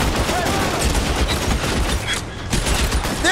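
Dense, continuous gunfire from the video game L.A. Noire, a loud sustained fusillade of overlapping shots filling the whole stretch with no pauses.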